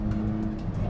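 A Fiat Palio 1.6 S10 hot hatch engine drones close and steady for a brief moment, with a loud, continuous low rumble and intake noise.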